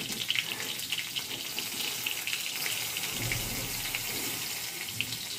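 Cumin seeds and red chillies frying in hot oil for a tadka for tuar (arhar) dal, a steady close hiss and sizzle that runs without a break and with no talking.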